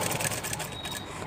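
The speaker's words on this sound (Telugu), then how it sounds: "జాగ్రత్తగా కుట్టుకోండి." A sewing machine stitches the neck of a plain blouse in a short burst of quick, rhythmic mechanical ticking, close and fairly quiet.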